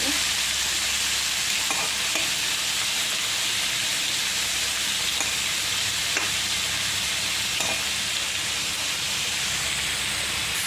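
Steady, loud sizzling of potatoes and onions frying in hot oil, a continuous bright hiss with occasional soft stirring clicks and no talking.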